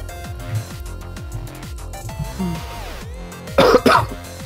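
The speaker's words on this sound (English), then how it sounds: "That was a cough." A single sharp cough near the end, two quick bursts over a background of steady tonal music.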